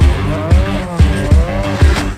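Car accelerating hard with squealing tires, used as a sound effect in a Turkish pop song: repeated loud bursts of engine and rising tire squeal, roughly every half second, over music.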